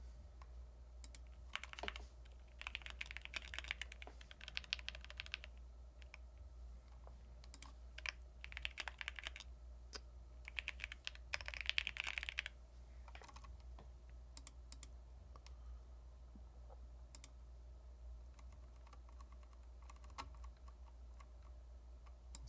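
Bursts of computer keyboard typing come in irregular clusters of quick, light clicks with pauses between, close and fairly quiet against a steady low hum, with no talking.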